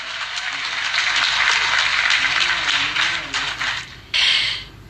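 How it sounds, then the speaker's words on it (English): Audience applause at an OPPO Reno 2 series launch event in India, a steady wash of clapping from a large crowd that briefly dips and swells again before fading, with a faint voice murmuring underneath. "A big round of applause,"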